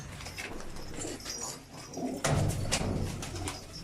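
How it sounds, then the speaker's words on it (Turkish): A freshly caught young Hatay Defne pigeon gives soft cooing and fluttering sounds, close and faint, with handling noise and a louder rustling burst partway through; no one speaks. "Kuşumuzu yakalamış bulunuyoruz"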